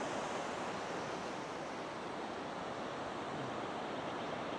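Beach surf at a campsite in Kinkuna washes in a steady, broad roar, distant and soft, with some wind and no voices.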